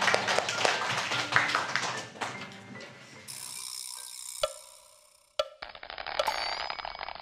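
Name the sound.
audience clapping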